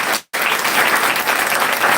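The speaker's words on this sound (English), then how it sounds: "a big round of applause for all" Applause from the audience at a quiz event, a steady wash of clapping with a brief gap near the start, continuing unbroken to the end.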